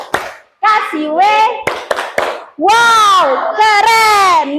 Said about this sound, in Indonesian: Kita kasih tepuk.